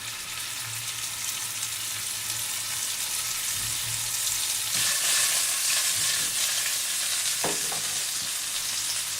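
Swedish meatballs fry steadily in melted, golden-brown butter, a continuous close sizzle with crackle that holds for the whole stretch, a faint clink near the end and no talk.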